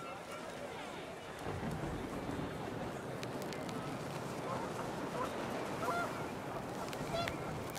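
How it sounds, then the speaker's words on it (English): Wind and panicked geese in the video game What Remains of Edith Finch: a steady windy rumble with faint honking goose calls scattered across it, brief and not very loud. "The wind picked up and panicked geese appeared and quickly went."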